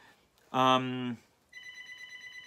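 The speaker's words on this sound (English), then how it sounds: "Okay, the phone's ringing." A telephone rings in a home in Miramichi in 1994, a warbling electronic trill that repeats steadily in the second half after a brief louder tone, with a quiet room around it.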